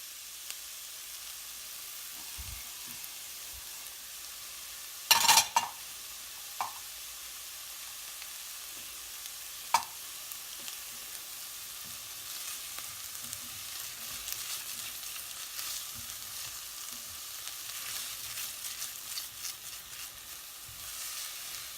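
Celery and carrots sizzle with onions and garlic in a pan, a soft steady frying hiss broken by a few brief clicks and scrapes as the vegetables are stirred.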